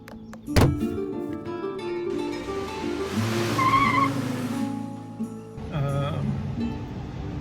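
A car driving along the Molly Stark Byway through Searsburg, Vermont, its steady engine hum heard from inside, with a brief sharp knock near the start and tonal sounds over the hum.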